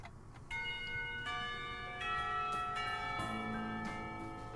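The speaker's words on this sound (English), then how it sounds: "When the final bell sounds" A school bell chime from the visual novel Katawa Shoujo: a sequence of clear, ringing tonal strikes, each sustaining and overlapping the last, steady and moderately loud over a soft background.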